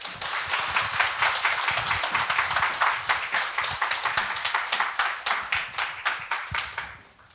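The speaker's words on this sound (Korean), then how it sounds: "우리 교수님 귀한 말씀 전해 주시도록 우리 힘찬 박수로 우리 모시겠습니다" A church congregation bursts into loud, steady applause to welcome a guest professor, many hands clapping in a fairly even rhythm that carries on for several seconds before fading out at the end.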